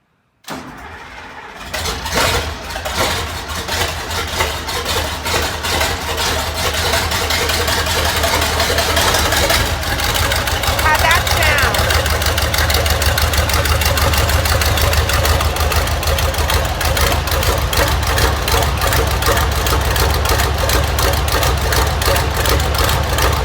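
A Massey Ferguson 1155 tractor engine starting on a cold day: a brief crank catches and the diesel settles into a loud, steady, rumbling idle with rapid regular firing pulses, close by and without voices.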